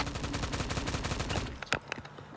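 Rapid automatic gunfire in a team shooter video game, a fast continuous burst that stops partway, followed by a few separate sharp shots.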